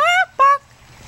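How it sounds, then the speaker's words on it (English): Two short, loud, close honking calls from excited chickens, with a brief gap between them and quiet afterward. "Chickens are very excited."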